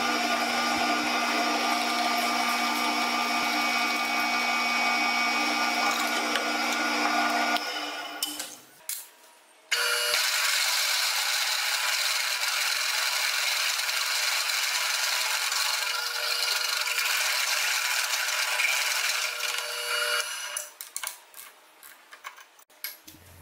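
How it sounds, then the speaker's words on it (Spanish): A 3/4 inch drill bit boring through metal while a sheet-metal bending brake is built, a loud, steady grinding whine that dips briefly, resumes and trails off at the end. "ahora lo que vamos a hacer es que vamos a perforar con broca de 3/4."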